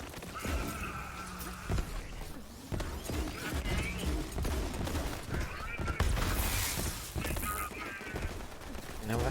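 Echo legendary pistol firing in Borderlands 3, a busy stretch of repeated gunshots and game effects mixed with music and other in-game noise, with rapid bursts spread across the whole stretch.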